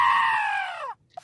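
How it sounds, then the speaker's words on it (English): Man screaming at Balgony Castle, a single long, loud, high-pitched wail that slowly falls in pitch and cuts off abruptly, followed by a faint short noise in near silence. "they're screaming for your scream"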